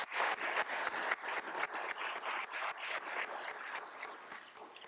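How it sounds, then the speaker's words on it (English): An audience at a university public service award ceremony claps, a dense steady round of applause at moderate volume that tapers slightly toward the end. "So if you can help me give them a round of applause, I would appreciate it."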